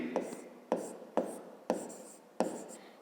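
Pen or pencil writing out a fifth-grade math solution on paper, close and fairly quiet, in short scratchy strokes with five distinct pen touches starting new marks.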